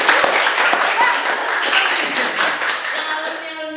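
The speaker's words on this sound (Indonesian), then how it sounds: "tepuk tangan dong untuk Subang" An audience claps for Subang at a bootcamp gathering, a busy spatter of hand claps that stays steady and close, with faint voices mixed in and the clapping thinning slightly toward the end.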